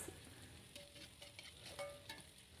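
Anchovies fry with spices and chayote squash in a pan, giving a quiet, steady sizzle. Light crackles and scrapes come from the stirring.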